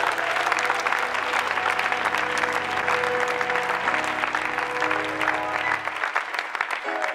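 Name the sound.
audience applauding at a church seminar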